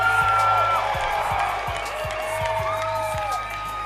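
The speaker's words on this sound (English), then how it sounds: "we hear the local crowd for our round card girl" Local crowd at a women's boxing match cheering and whooping steadily throughout, a broad roar with scattered shouts and claps and no talk over it.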